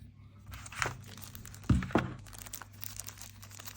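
A plastic snap-seal bag from a DJI Osmo Mobile 6 gimbal unboxing is opened nearby, crinkling softly before two sharp crackling snaps, then quieter rustling.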